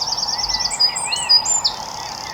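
A small wren sings nearby among blossom, a loud, high, rapid run of trills and sharp chirps that changes pitch over a couple of seconds.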